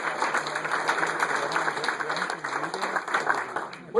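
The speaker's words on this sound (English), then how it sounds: "Let's give all these folks a great round of applause." Steady applause from an audience at an announcement event with the governor, a dense crowd of clapping hands sustained at a fairly loud, even level, with some crowd murmur and voices mixed in underneath.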